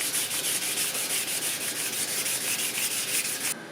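Steady continuous rubbing of 600 grit sandpaper on a wheel being smoothed for polishing, a close, even scratchy hiss with faint periodic strokes that stops abruptly near the end.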